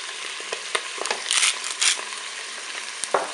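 Mushrooms go into a hot Cookeo pressure cooker on its browning setting, bursting into crackly sizzling with a few sharp clacks from stirring, close and moderately loud.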